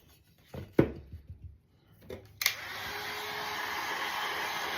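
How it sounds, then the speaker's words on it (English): A handheld heat gun switches on during a reverse decoupage glass craft, after a few clunks of handling, then blows a steady, loud rushing stream of hot air alone. "You can use a heat gun."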